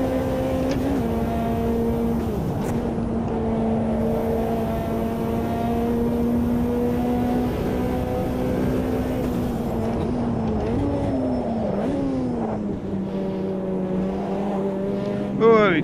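Ferrari F40 race car engines in the Automobilista 2 racing game, a loud sustained drone that rises and falls through downshifts and revs near the limiter, with a commentator talking over it throughout.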